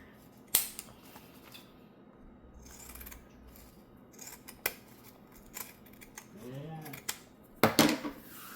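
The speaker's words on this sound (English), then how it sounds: "Just going to use my pinking shears just to make it look cute." Pinking shears trim excess fabric from a sewn zipper pouch in a few sharp, separate snips scattered over a quiet background, with faint handling rustle between cuts.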